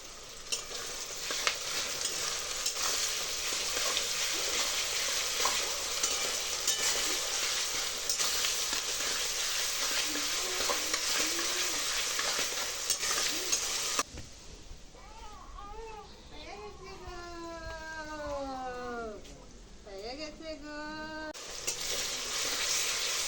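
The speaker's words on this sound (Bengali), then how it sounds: "তো এখানে পেঁয়াজটা ভাজা হতে থাক" Onions frying in a pan in a home kitchen, a steady, dense sizzle that runs for most of the time, then drops lower while a child's wavering cries are heard over it.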